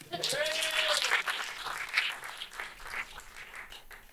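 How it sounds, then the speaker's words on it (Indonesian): Applause from a comedy show audience, fairly faint and lively, with voices and laughter mixed through it across the whole stretch. "Tepuk tangannya dulu dong."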